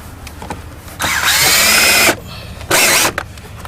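Power tool driving a screw clamp that secures cable during a new cable and amplifier install, two loud whirring bursts, the first about a second long and the second shorter, separated by a pause.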